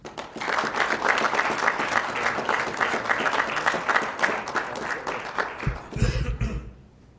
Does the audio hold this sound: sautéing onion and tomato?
no